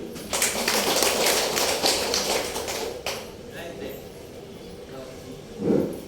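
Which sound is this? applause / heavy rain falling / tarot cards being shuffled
applause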